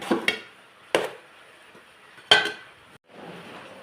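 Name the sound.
stirring food in a cooking pot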